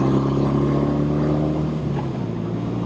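A 1971 BMW R75/5 motorcycle on the move, its engine a loud, steady, close droning hum that holds evenly throughout without any talk.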